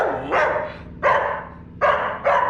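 Dog barks four times in quick succession, close and loud, sharp yelping woofs with short pauses between them.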